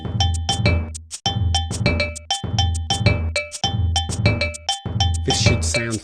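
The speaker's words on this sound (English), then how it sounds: "you will see the go-go bells being played" Go-go bells played in a samba a go-go rhythm on drum pads, with steady two-tone metallic clanks and a low bass pulse underneath, loud and busy throughout.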